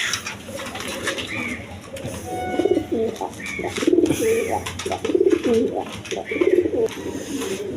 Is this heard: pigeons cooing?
yes